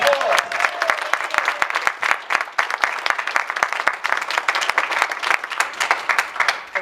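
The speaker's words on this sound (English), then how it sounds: "Josh Parker, a round of applause." An audience claps for a state teacher of the year at a summit, the applause loud and close with sharp individual hand claps standing out in a lively, uneven patter.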